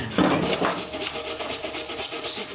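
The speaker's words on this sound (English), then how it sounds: "I'm just cutting into it instead of actually moving it because it's so rusted." A rusted part on a Ford E250 Econoline van being cut: a fast, regular rasping grind repeating about five times a second, loud and close, with a clank of metal at the start and no voices.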